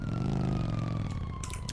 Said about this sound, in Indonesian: dengar motor-motor Harley nih